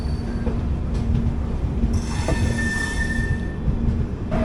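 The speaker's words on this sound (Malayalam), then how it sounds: "സിംഗിൾ കോച്ചാണ്, ട്രെയിനില്ല, സിംഗിൾ കോച്ച്, ഷണ്ടിങ് ആണ്." A single railway coach shunting out of a yard moves past with steady rumbling and a drawn-out metallic squeal of wheels on the rails, fairly close, without talk.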